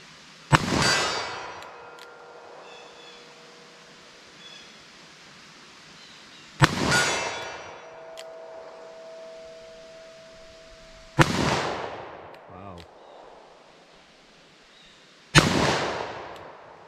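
Revolver shots fired at a steel target at an outdoor range, four sharp, loud reports spaced several seconds apart, each followed by a bright ringing clang from the steel that fades out slowly.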